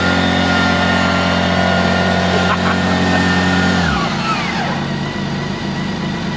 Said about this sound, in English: And start our new K16 GTL.